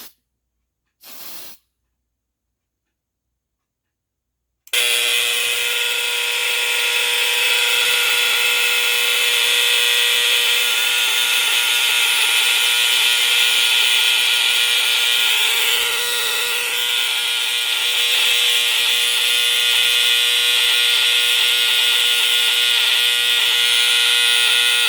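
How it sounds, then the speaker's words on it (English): A vintage smoke alarm with no test button, set off with smoke spray, gives a few brief spray bursts followed by a loud, continuous, piercing electronic tone that holds steady at close range. "let's see if I can't get it to sound with some smoke spray here"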